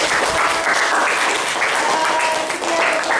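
Sustained, dense clapping from a class of students, loud and steady throughout with no pause, filling the whole stretch as a warm round of applause.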